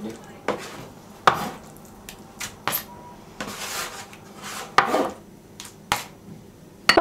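Knife cutting cooked eggplant, soft irregular chops and taps against a board with pauses between strokes, close up, with faint kitchen clatter between them.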